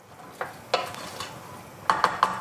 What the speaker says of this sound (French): Je remue moi. Voilà, on remue encore.